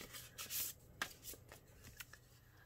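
Paper card being handled and slid from a mail package, with soft rustling and brushing strokes in short bursts at close range, with no talking.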